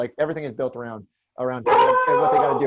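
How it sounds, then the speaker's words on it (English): A pet dog howls and yips in excited, worked-up bursts, first in short pitched cries, then a brief pause and a louder, sustained stretch of howling and barking close by, overlapping a man's speech. "And that is my dog, who is getting very worked up about the Tatum."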